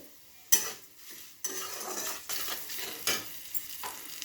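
Thick flattened rice (poha), soaked and seasoned with a little sugar, is tossed and stirred in a pan, with sharp scrapes and clinks of the spatula and soft sizzling in separate close strokes.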